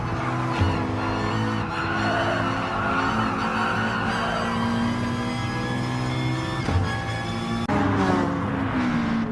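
Group 4 racing cars, including a McLaren 650S and a Honda NSX, roar around the Sainte Croix circuit in Gran Turismo Sport, with sustained loud engine drone, shifting revs and tyre squeal throughout, no voices.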